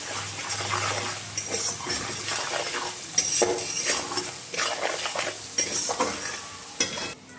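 Onion paste with turmeric and salt sizzles in oil while a spoon scrapes and stirs it in repeated strokes, a close, uneven frying hiss broken by clatter.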